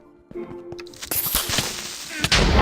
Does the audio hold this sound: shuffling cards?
no